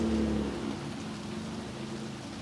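Steady rain falls outdoors on an onshore, rainy day by the sea, a dense even hiss with low rumbling underneath and no voices.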